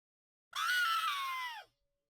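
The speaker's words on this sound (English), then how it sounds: "Let's play that scream, shall we?" A single drawn-out human scream, high and strained, lasting about a second with a falling pitch at the end, recorded from a distance away from the microphone, sounding slightly distant and roomy.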